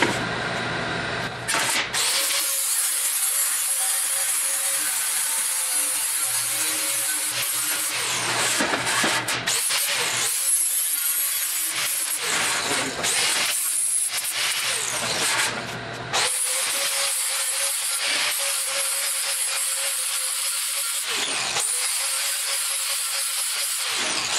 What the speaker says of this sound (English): what we're going to do now is just clean up the surfaces where I'm going to weld